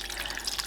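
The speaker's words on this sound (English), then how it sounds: "I'm gonna add more water." Water is poured into a birria cooking pot, giving a brief splashing, dripping trickle heard close up with no talk.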